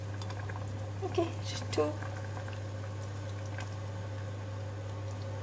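Prawn soup boiling in a pot as Tom Yum sauce is added, a low steady bubbling simmer with a couple of brief splashy pours, while a person speaks briefly over it.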